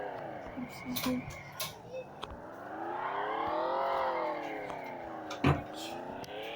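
Car engine from a video game, revving and rising in pitch as the car speeds up and drifts, a steady whining tone that swells and falls under someone talking.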